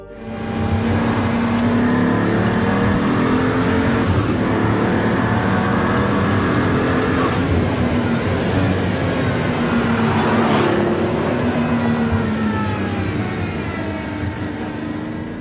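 The AMG engine of a Pagani Huayra roars loud and close for a long sustained stretch, holding its revs with a few rising and falling swells.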